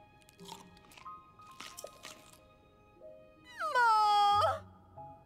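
Crunchy vegetables eaten in Zelda: Tears of the Kingdom, heard as a few crisp, separate bites followed by a loud, sustained whining cry near the end.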